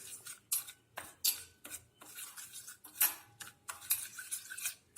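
A spoon scrapes and clacks around a bowl while ghee is mixed into idli podi, a series of close, quiet metallic strokes in an irregular rhythm.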